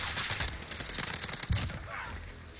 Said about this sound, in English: I believe that's an SMG, yeah.